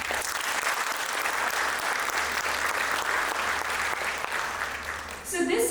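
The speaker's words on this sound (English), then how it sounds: "please let us give her a big round of applause" Sustained applause from an audience at a Bharatanatyam arangetram in Mount Laurel, honoring a dancer about to perform a Varnam, a steady dense wash of clapping throughout with a brief louder swell at the end.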